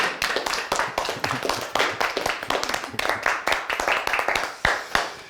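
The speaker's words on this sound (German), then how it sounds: "Einen Applaus für die beiden, bitte." An audience applauds after a workshop, a dense, steady clapping from many hands that carries on for several seconds, with a few sharper individual claps near the end.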